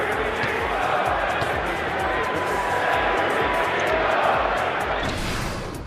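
A loud, dense basketball arena crowd roars and murmurs continuously at a Lakers vs Mavericks game, with scattered clapping and faint ball bounces throughout.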